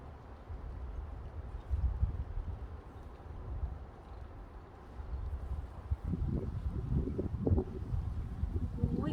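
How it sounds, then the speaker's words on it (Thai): Steady outdoor wind blows with low rumbling gusts that strengthen midway, alone and moderately loud. "ฟังเสียงลมก่อนเนอะค่ะเด้อ"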